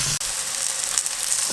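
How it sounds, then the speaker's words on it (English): Cornstarch-coated tofu and vegetables fry in a pan on a camper-van stove, giving a steady, close hiss of sizzling oil with a brief dip near the start and no speech. "just fry that on the pan to make them all crispy"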